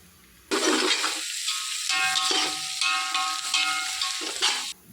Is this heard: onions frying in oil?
yes